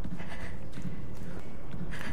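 Stalking footsteps of a doll in the horror game Resident Evil Village's Winters' Expansion. Heavy, rhythmic thuds repeat steadily and loudly throughout, sounding almost like hooves over a dense background rumble.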